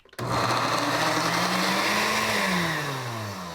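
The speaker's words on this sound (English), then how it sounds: "I will try to blend them now in the blender" A blender blending cooked carrots starts abruptly and runs loudly with a steady whirring motor, its pitch rising and falling slightly as it churns.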